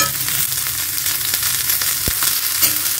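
Round-cut onion rings fry in hot oil in a pan for a tomato onion curry, giving a steady, close hiss of sizzling with a few sharp utensil clicks and no voices.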